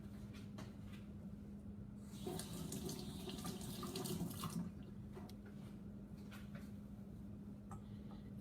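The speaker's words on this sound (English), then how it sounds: "I'll just wash my hand." Hands being washed under a running tap, a steady, fairly quiet stream of water that splashes harder midway through, then settles back to a constant flow with no voices.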